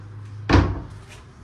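A wardrobe door on a new narrowboat build gives a single sharp, close wooden knock as it shuts, followed by a faint softer rattle in a quiet cabin with no one speaking.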